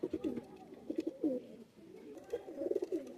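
Several pigeons, including Oman teddy, blue dumba and golden kamagar birds, coo in soft throaty rolling phrases that repeat in bursts, close by and fairly quiet.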